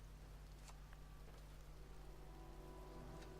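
Pouring rain falls over a cemetery in the game Heavy Rain, a steady, dense hiss that runs unbroken throughout with no voices.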